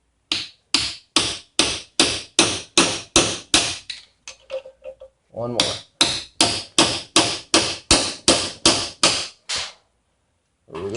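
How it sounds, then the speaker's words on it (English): A sledgehammer drives a chisel into a Master padlock in rapid, loud, evenly spaced metallic strikes, about twenty in all. The blows break for a moment midway while a voice speaks briefly, then resume. "I'm using a chisel and a sledgehammer"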